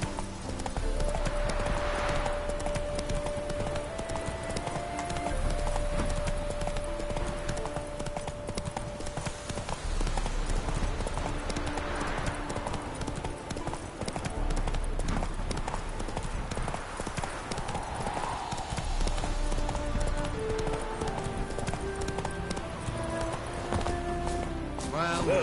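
Horse Roach galloping in The Witcher 3, a steady rapid clip-clop of hooves with an occasional whinny, heard throughout over a continuous bed of game music.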